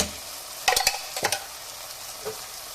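Onions fry in a pan with spoonfuls of chilli powder and cumin powder stirred in. A low, steady sizzle runs throughout, broken by a few quick, close spoon scrapes and clinks.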